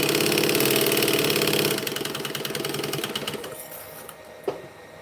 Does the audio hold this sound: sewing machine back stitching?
yes